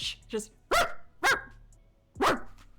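A person imitates the yapping bark of a tiny Chihuahua with several short, sharp vocal yips spaced about half a second apart, fairly close and unaccompanied.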